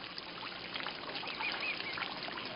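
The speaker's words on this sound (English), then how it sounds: "I hear the birds." Ducks and geese call in a few scattered honks and quacks over a constant wash of trickling water, moderately distant.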